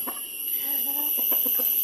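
Chickens cluck in short bursts at a rural farm setting, several soft calls rising and falling close by over a steady high background hiss.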